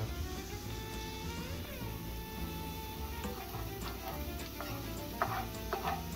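Tomato paste is worked into a sizzling meatball sauce in a pan, a steady frying crackle with soft stirring scrapes and occasional clicks of a spoon against the pan, over a low background hum.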